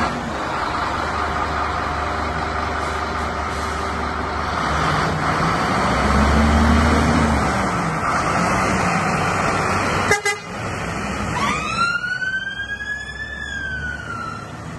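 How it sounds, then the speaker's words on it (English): A fire engine driving past, heard as a loud steady vehicle rumble with horn blasts and toots, then a rising siren wail near the end. "If you see us drive past, give us a wave and we'll give you a toot."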